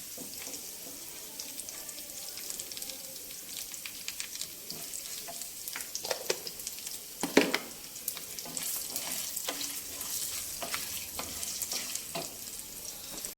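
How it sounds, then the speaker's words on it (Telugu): A small tempering of curry leaves and a pinch of asafoetida crackles in hot oil for gongura chutney, a faint uneven sizzle with scattered pops and a sharper clatter midway, no talking. "ఇదిగోనండి తాలింపు వేగిపోయింది"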